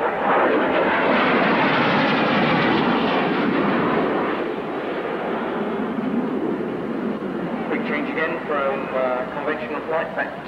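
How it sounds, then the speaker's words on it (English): A military jet aircraft comes in low and fast at the 1986 Leicester International Airshow, a loud broadband roar that gradually fades while a commentator talks over it. "seeing one of these aircraft coming in low and fast straight towards you"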